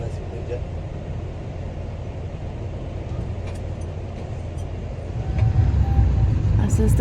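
Pahari Express passenger train rolling toward Barsoi Junction, a steady low rumble of the carriage throughout that swells louder near the end, with faint voices underneath.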